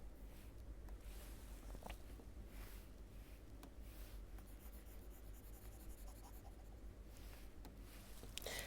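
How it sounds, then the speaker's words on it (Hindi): Marker or chalk strokes on a board during a Class 10 statistics lesson make a steady, close scratching and rubbing that runs almost without pause, with no voice over it. "अब मैं यहाँ पर लिख देता हूँ तो समझ में आ जाएगा।"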